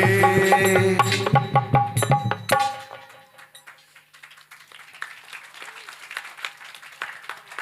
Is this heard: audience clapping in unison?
yes